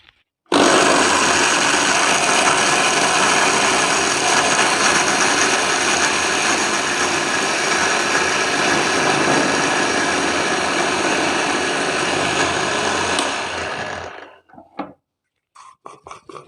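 A mixer grinder blends roasted chana, almonds and other laddu ingredients in a loud, steady whir lasting about fourteen seconds, then cuts off and leaves a few faint clicks.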